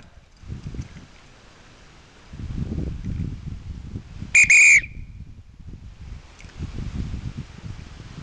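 One short, shrill dog-training whistle blast cuts through outdoor rustling and wind noise, loud and close.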